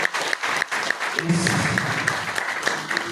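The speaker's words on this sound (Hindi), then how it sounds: "आप जोरदार तालियों से इस पुस्तक का स्वागत करें" Loud audience applause welcoming a book at a university event, dense clapping sustained for about three seconds with a few voices rising through it.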